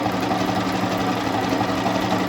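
An Elmas 990P sewing machine runs at about 1300 rpm in a small enclosed room, giving a steady, loud mechanical whir and rapid needle rattle that holds constant throughout with no talking.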